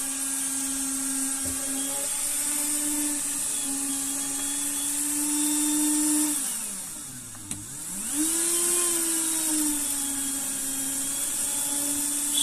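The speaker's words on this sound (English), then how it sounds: "Where's my Dremel suddenly speeded up?" A Dremel rotary tool whines steadily up close, then dips sharply in speed and surges back up to its high whine, with no talking.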